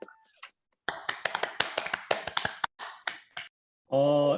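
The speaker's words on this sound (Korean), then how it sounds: "박수 한번 주시겠어요?" A church worship-team congregation claps to welcome a new bassist: a short burst of separate, uneven claps from a small group, close and fairly loud, ending in a brief sustained tone.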